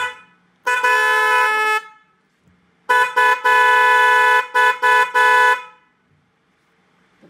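A set of pressure horns pitched at 410 Hz and 510 Hz blares loudly and up close: one long blast, then a run of shorter blasts with brief gaps between them.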